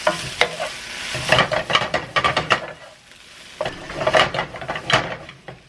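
Garlic sizzling in a pan over low heat, stirred in bursts of scraping and clatter with a soft frying hiss beneath and a brief lull in the middle.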